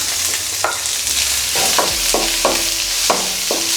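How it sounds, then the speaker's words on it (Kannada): Onions frying in a pan for chicken curry give a loud, continuous sizzle, with repeated short scrapes of a spoon stirring them at a steady pace. "ಸೊ ಈರುಳ್ಳಿ ಬಂದು ಬ್ರೌನ್ ಕಲರ್ ಆಗೋ ತನಕ ಫ್ರೈ ಮಾಡ್ಕೊಬೇಕಂತೆ."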